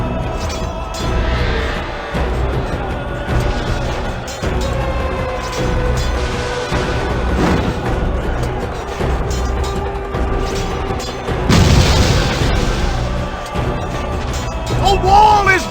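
Pyromancers blow up a wall in the video game 300 March to Glory, a run of loud crashes and booms with crumbling debris and a bigger blast late on, layered over an ongoing battle din with voices mixed in.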